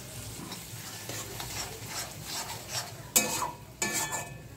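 A poppy seed and mustard paste is stir-fried with softened tomato for an egg curry, a soft sizzle under repeated spatula scrapes and two sharp metallic clanks of a utensil against the pan near the end.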